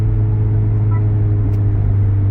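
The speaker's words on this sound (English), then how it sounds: "now the valve is fully open and individual as we've set it" Acura Integra A-spec running an MBRP exhaust with its valve fully open gives a loud, steady low-pitched drone, continuous and close, with no speech over it.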